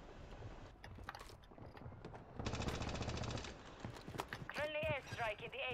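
Warzone gunfire rattles in a dense automatic burst of about a second amid game noise, followed by scattered shots and clicks, while people talk over it.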